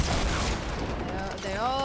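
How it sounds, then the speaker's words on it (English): Gunfire from the battle royale game Fortnite, a duos versus squads match, crackling as a dense burst of shots under and between voices, loud and continuous across the short moment. "They're all shooting me."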